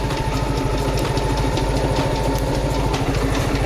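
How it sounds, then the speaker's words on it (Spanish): A Yamaha Libero 110 or 125 motorcycle engine idles steadily up close, a rapid even low putter with a mechanical rattle layered over it, with no voices. "Ya tenemos la moto prendida"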